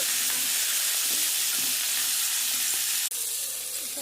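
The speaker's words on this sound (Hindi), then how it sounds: "कंकड़ को भलसे ढाँकी दिया कमे भलसे भाजी" Crab sizzles steadily in hot oil in a covered pan for an Odia-style crab curry, a dense, continuous frying hiss close up with a brief dropout near the end.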